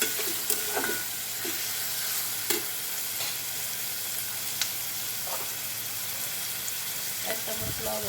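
Green chillies go into a frying fish curry, raising a loud continuous sizzle and hiss, with intermittent scrapes and taps of a spoon stirring against the pan.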